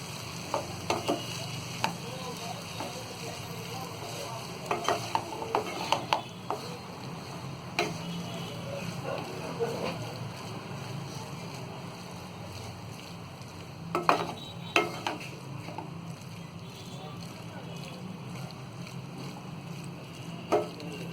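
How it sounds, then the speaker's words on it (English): Pre-cooked pasta being stirred in a saucepan, a low background sizzle with scattered scraping strokes and clusters of spoon knocks, fairly quiet, without talking. "the pre-cooked pasta we will add in this saucepan. Mix it well."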